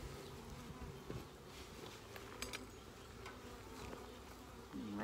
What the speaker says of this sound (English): the bees are not happy with me